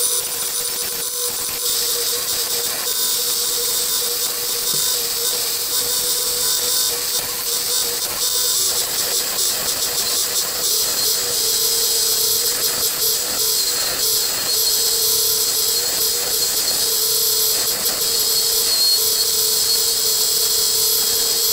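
A wood lathe whirs steadily for a long stretch while shaping the outside edge of a wooden bowl, a loud continuous high-pitched spinning tone with a cutting hiss and no talking.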